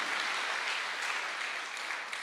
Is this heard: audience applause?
yes